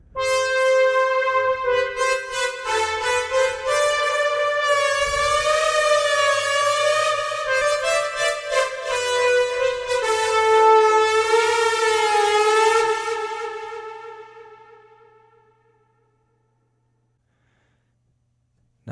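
A sustained synth lead from a DeepMind synthesizer plays a bright, buzzy line, its pitch bending and swelling with wobbly modulation, then fades out into silence near the end.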